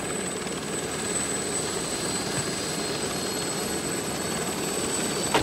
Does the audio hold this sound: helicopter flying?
yes